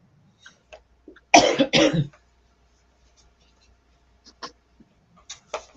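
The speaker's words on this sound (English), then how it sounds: "I apologize for coughing in your ear" Two quick, close coughs in the middle of otherwise quiet surroundings, with faint scattered clicks and taps before and after.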